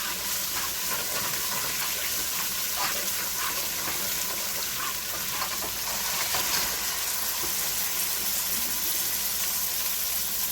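Beans frying in oil with spices in a pot for rice and beans, a continuous close hiss and sizzle holding steady throughout, with no talk over it.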